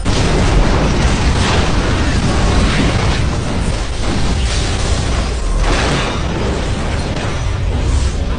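A loud, continuous roaring blast of broadband noise that rumbles and crackles without letup, like a powerful explosion tearing through an upscale restaurant.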